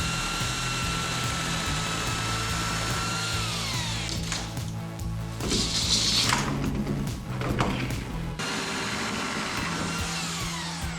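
A power sander works along poles during a solo container home build, a steady close whir with shifting pitch and a brief louder rough burst midway, then continuing alone without talk.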